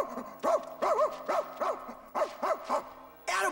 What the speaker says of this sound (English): Smart dog you've got there, Captain N.